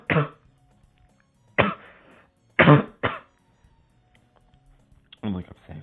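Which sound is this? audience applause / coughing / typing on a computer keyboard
coughing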